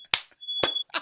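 A household smoke alarm sounds one steady high-pitched electronic tone lasting about half a second, set between sharp clicks and knocks with no talking.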